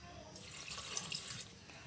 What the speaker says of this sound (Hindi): और उसमें थोड़ी सी पानी डाल देते हैं।